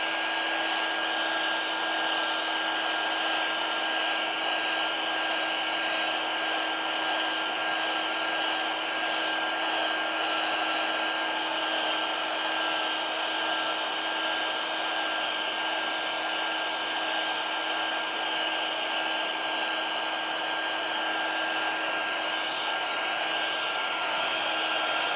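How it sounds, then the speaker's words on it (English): A handheld blow dryer runs continuously while drying paint on a snowman and bird artwork, a loud, steady whooshing roar with a constant motor whine and no pauses. "I'm going to get out my blow dryer because I'm gonna need to work on some snowmen."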